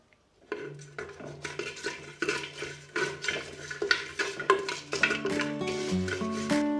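Cloves and cumin dry-roasted in a pan for Jaffna-style biryani, with a steady run of scraping and clinking as the spices are stirred against the metal, close and moderately loud, and a faint tonal hum near the end.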